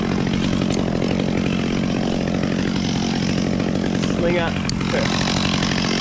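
A chainsaw runs steadily during tree work with a crane sling, droning loud and continuous under a man's speech.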